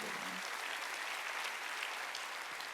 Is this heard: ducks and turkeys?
no